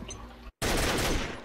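Rapid AK rifle gunfire bursts in a video game, dense and loud, following a brief silent gap after quieter game sounds.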